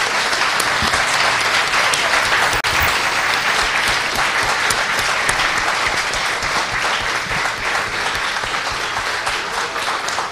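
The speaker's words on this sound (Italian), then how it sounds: "vi chiedo di fare un caloroso applauso" A crowd at Lucca Games gives warm applause for Sandy Petersen, a dense, continuous wash of many hands clapping, loud and sustained for about ten seconds with no talk.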